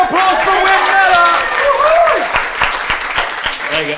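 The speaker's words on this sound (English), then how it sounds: "Round of applause for Wim Miller!" Live audience applause at a comedy press-conference show, dense clapping with some cheering while voices talk excitedly over it.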